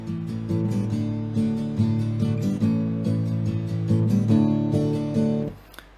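Close acoustic guitar strumming steadily for a song, with open strings left ringing across each chord change so the sound never drops out, ending as the last strum fades.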